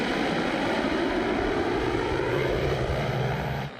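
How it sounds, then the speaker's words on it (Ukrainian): A Ukrainian military reconnaissance drone flies with its propeller engine running, giving off a steady, loud, buzzing drone that holds evenly throughout and drops off only at the very end. "Україна продовжує вдосконалювати розвідувальні безпілотники, найбільш поширеніші у війську БПЛА Лелека та Фурія."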